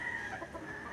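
Chickens cluck close by on a Filipino farm, a short run of clucks and calls over a steady outdoor background with no talking.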